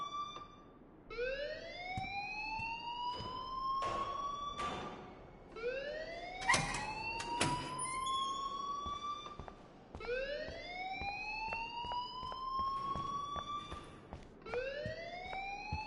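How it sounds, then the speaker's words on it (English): In the Life is Strange video game an alarm wails in repeating rising sweeps, each climbing for a few seconds before restarting, with scattered knocks and clatter between the cycles. "please turn off that alarm since that's your job"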